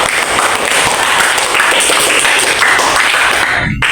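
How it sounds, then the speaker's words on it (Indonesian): Classroom applause from a group of students during a biology lesson, a steady dense patter of clapping lasting several seconds before cutting off abruptly near the end. "Kita beri dulu aplaus untuk."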